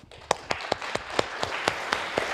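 A small audience claps after a university lecture, with distinct, evenly spaced individual claps standing out over a thin, fairly quiet patter.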